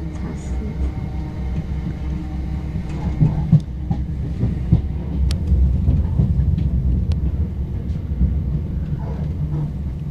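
Heard from on board, a train rumbles steadily on the rails into Wembley Yard near Clapham Junction, with loud low-frequency noise and occasional clicks and clatter throughout.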